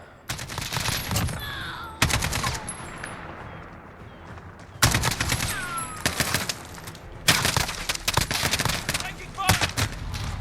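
RPK machine gun in Call of Duty Modern Warfare, fired in several long, loud sustained bursts separated by short pauses, with no talking over the shooting.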